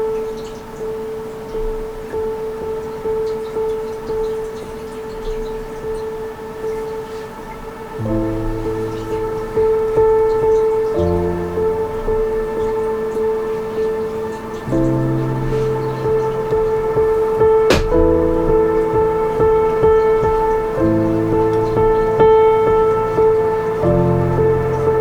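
Piano plays softly repeated notes with the sustain pedal held, building a cinematic, atmospheric texture of ringing tones as the chords shift every few seconds, steady and unaccompanied by voices.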